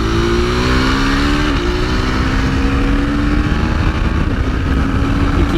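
A 2025 Husqvarna Svartpilen 401 motorcycle engine held at full throttle, a loud, steady, close-up drone with rising pitch and a brief dip as the revs climb again, under continuous wind rush.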